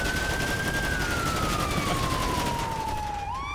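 A police car siren in the FivePD game wails continuously and loudly, one long falling tone sweeping down over a few seconds before starting to rise again, with no talk over it.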